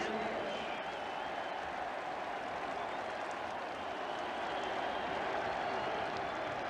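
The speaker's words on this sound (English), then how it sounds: "taking the applause of the crowd" A football crowd at a Wales v England international applauds a goal, a distant, even roar of clapping and crowd noise held steady and faint beneath the broadcast throughout.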